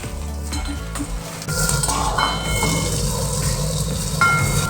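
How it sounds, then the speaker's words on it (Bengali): Onions and garlic frying in oil until browned for a Bengali jackfruit-seed bharta give a steady, close sizzle, with a spoon stirring and scraping the pan and an occasional light clink. "একটু লাল লাল করে ভেজে নেব, যাকে বেরেস্তা বলে সেই বেরেস্তার মতো করে ভেজে নেব।"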